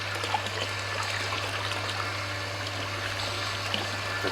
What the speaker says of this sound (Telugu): చూసారా నీళ్ళు ఎట్లా వచ్చేస్తున్నాయో?